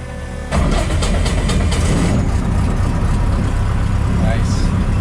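A Sonex Highwing light aircraft's propeller engine cranks and catches, then settles into a loud, steady running drone close by, with a voice speaking over it.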